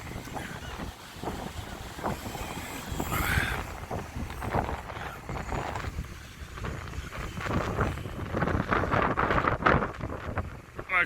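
Wind blowing along the seaside promenade at Blackpool, buffeting the microphone in steady gusty rumbles with surges, while someone talks intermittently beneath it.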